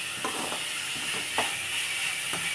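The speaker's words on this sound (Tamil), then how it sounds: "இந்த வெங்காயம்லாம் கொஞ்சம் வதங்கட்டும்" Sliced onions sauté in a hot pan for a Tamil-style egg fry, with a steady bright sizzle and hiss throughout. A few soft stirring scrapes come at irregular intervals.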